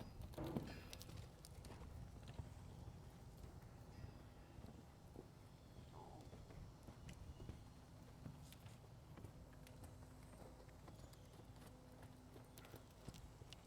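Horse cantering on soft ground during a liberty lesson, faint rhythmic hoofbeats with occasional soft thuds in a quiet outdoor setting.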